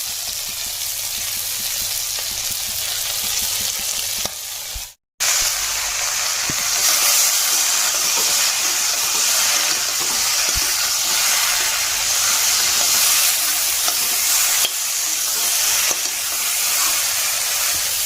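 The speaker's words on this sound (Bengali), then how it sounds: "চলো মাছগুলো এখন সাঁতাল দিয়ে নিচ্ছি" Prawns frying in a pan for a prawn and okra curry, a loud, steady hissing sizzle that cuts out briefly once and then continues unbroken, with no talking.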